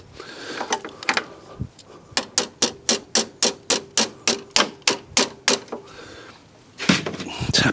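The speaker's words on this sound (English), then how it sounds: "tap it with a hammer." On a Fiat 500 1.2 clutch slave cylinder job, a circlip is tapped in with a hammer: a steady run of about fifteen sharp, quick, evenly spaced metal taps, close and clear, framed by some handling clatter.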